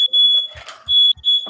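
A smoke alarm chirps in repeated high, piercing beeps, loud and close, with brief gaps between tones and a few low thumps and faint sounds in between.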